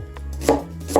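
Two crisp knife chops through an onion on a cutting board, close and distinct, spaced about half a second apart, with no talking.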